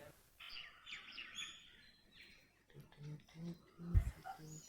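Small birds chirp and tweet in short bright bursts around the stone temple at Lepakshi, fairly faint and distant, while a person talks over the later part and a low thump sounds near the end.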